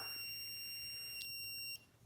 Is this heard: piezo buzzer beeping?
yes